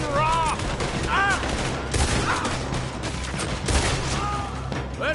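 Dense, rapid gunfire from a Red Dead Redemption shootout crackles continuously, layered shots overlapping under shouted voices and horse-like calls throughout.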